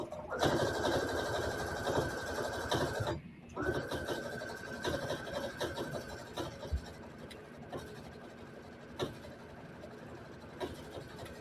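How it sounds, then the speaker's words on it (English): A domestic sewing machine running steadily as it stitches around the top edge of an upcycled fleece neck cover, with a brief pause near three seconds, under someone talking close by. "And we're just going to sew around the top."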